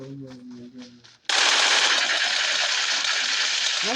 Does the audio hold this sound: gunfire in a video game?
yes